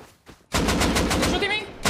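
Rapid automatic gunfire rattles loudly in the survival game Rust, a sustained burst of closely spaced shots following a quiet moment, with faint voices beneath.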